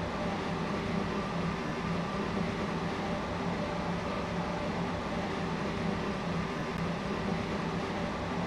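A train runs on the Waterline in the Roblox game SCR, a continuous loud rumble with a steady rolling roar and faint higher whine, unchanging throughout.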